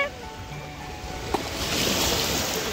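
Gentle sea waves wash and slosh steadily around a swimmer in warm, slightly choppy water, with a brief splash midway and faint talk nearby.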